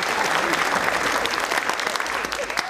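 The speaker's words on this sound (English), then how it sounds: "Give her a big round of applause." Loud, dense applause from a stand-up comedy audience, continuous clapping throughout with no pauses.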